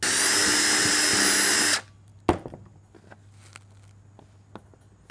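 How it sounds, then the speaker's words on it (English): Power drill pre-drilling screw holes in PVC, whirring loudly and steadily for under two seconds before stopping, followed by a sharp knock and faint handling clatter. "So let's start pre-drilling really quickly."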